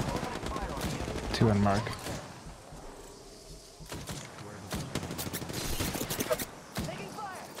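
Gunfire in the Apex Legends video game, with a burst of shots and scattered cracks under a player's voice and game chatter.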